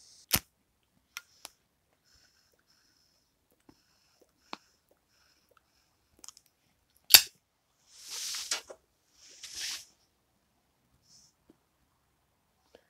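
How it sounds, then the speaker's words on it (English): A butane lighter clicks sharply a few times before its flame catches and hisses in short bursts to light a pipe of Burley flake tobacco. The sounds are quiet and sparse, with near-silence in between. "Switch lighters now. I like butane for initial impressions."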